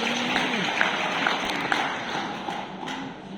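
An audience at a talk on Bitcoin and digital assets gives a steady wash of applause that fills the room for a few seconds, with a faint low hum underneath.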